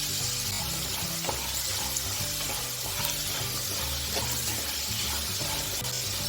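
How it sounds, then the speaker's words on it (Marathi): Potatoes shallow fry in oil in a pan for dhaba-style dum aloo, giving a dense, steady sizzle with soft crackling and a low stirring rumble, close and continuous without talk. "चांगला ब्राऊन कलर येईपर्यंत आपल्याला बटाटे फ्राय करून घ्यायचे आहेत"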